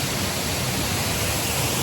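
A waterfall on the Pen Y Fan Four Waterfalls walk in the Brecon Beacons roars as a dense, constant, broadband rush heard from very close, drowning out everything else, with no voices.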